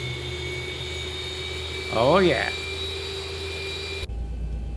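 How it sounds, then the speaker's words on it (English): Boeing 737-800 jet engines spooling up in the X-Plane 12 flight simulator, a steady whining hum with high tonal whistles that holds throughout, with a brief spoken exclamation over it partway through. "Listen to those engine sounds."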